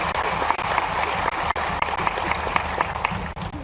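Crowd at a political rally with the chief minister for a military school groundbreaking in Budhni, clapping hard and steadily in a dense, loud burst with brief dips, no talk over it.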